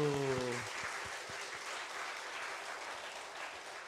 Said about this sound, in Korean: 아이고 박수